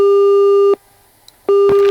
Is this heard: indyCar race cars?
no